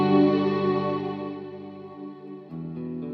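Guitar played through a Strymon Big Sky reverb pedal on its cloud setting, a sustained ambient wash of ringing notes that swells and slowly fades, with a chord change near the end and no talking.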